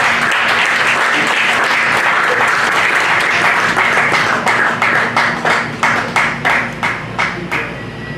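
Sustained applause from a church congregation, with rhythmic clapping growing more pronounced toward the end.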